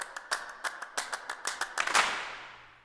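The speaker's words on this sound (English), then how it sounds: "the first recordings of clapping" A run of sharp hand claps, a dozen or so in a loose irregular rhythm, ending with a brief flurry and a ringing fade, recorded for the Dwarf Fortress game soundtrack.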